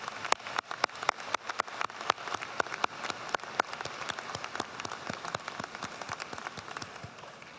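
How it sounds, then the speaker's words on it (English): Applause from a graduation audience at a 2022 George Washington University ceremony, a dense, steady patter of many hands with sharp individual claps standing out, continuous and fairly close. "give them a round of applause for helping us achieve our goals."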